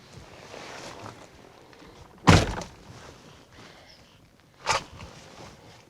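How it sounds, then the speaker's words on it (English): A handgun fires from inside a car during a shooting drill, giving a sharp, boomy report partway through, then a second, softer thump a couple of seconds later, with a quiet background and no talking. "shoot one shot out of here and see what happens."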